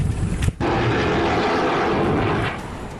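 A Boeing AH-64E Apache attack helicopter flies past loud and near, a dense broadband roar of engine and rotor that briefly drops out, then keeps going and eases slightly at the end.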